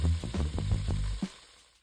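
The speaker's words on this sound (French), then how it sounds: "laissez-les frire un peu." Lamb or mutton pieces frying in a pan for a peanut sauce, a steady close sizzle with a few crackles and stirring bumps, fading out toward the end.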